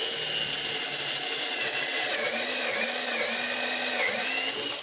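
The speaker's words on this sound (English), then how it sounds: "So I've just continued that pocket hole right into the leg." A power drill bores a pocket hole into a pithy wooden leg, with a steady, loud, continuous high-pitched whine held throughout and slight shifts in pitch as the bit cuts.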